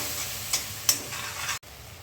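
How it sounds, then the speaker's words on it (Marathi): Masala for a garlic and fenugreek dish roasting in oil, a soft continuous sizzle with two spatula scrapes as it is stirred, quiet and close with no talking. "तेल सुटेपर्यंत भाजून घ्या।"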